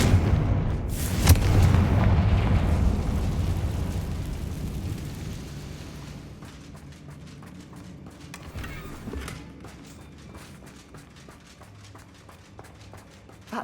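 A Confringo explosive spell in Hogwarts Legacy, a heavy booming blast with a rumbling tail that fades over several seconds, followed by quieter scattered clicks and knocks.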